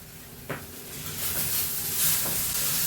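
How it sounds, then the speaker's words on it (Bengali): Dried red chillies fry in a pan with a steady, close sizzle and hiss that grows louder toward the end, broken by a couple of brief stirring clinks. "শুকনো লঙ্কার ওই ভাজি বলে"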